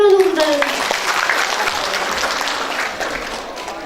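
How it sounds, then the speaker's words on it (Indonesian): An audience claps for Dr. Dani at a talk on managing a posyandu community health post. The applause is steady and fills the room, with some voices over it, and it eases off slightly toward the end. "Tepuk tangan dulu untuk Dr."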